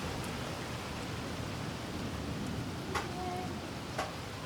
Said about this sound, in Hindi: एकदम से भैया जी बारिश शुरू हो गई